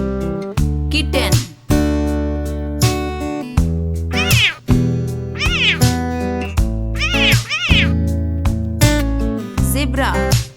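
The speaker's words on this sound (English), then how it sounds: "kitten," A kitten meows repeatedly, the high, rising-and-falling cries recurring every second or two against a constant bed of bright tonal sound that fills the clip.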